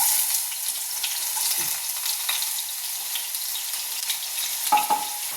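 Onions fry in hot coconut oil with a steady, bright sizzle throughout, broken by a couple of soft stirring knocks.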